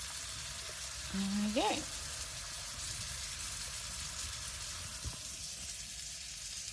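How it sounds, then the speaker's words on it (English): Steak, mushrooms and asparagus sizzle and fry in a pan on a wood stove inside a hot tent, a steady hiss running throughout, with a brief squeak of utensils and a short spoken remark early on. "Put these in with the steak."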